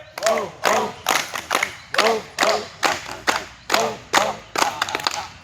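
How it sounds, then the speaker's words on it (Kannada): A group claps together in a slow, regular rhythm, about a dozen loud, even beats with voices chanting along on each clap. "ಚಪ್ಪಾಳೆ"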